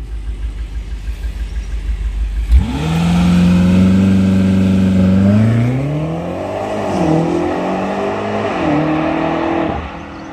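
A BMW X6M First Edition, fitted with a particulate filter and catalytic converter, starts with a sharp bark and then revs loudly and deeply, rising, falling and rising again in repeated close, powerful surges.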